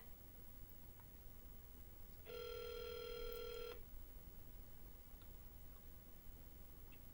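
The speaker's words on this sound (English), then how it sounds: "I was trying to disconnect and call you back" A telephone call being placed: faint background hiss, then a steady electronic tone of about a second and a half sounds clearly in the middle before fading back to quiet line noise, with no voices.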